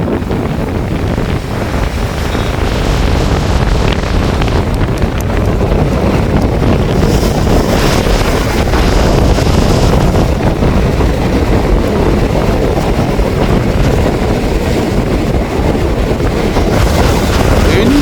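Stormy sea off Point Pedro, with large waves surging and a strong wind buffeting the microphone in a loud, continuous roar that holds steady throughout.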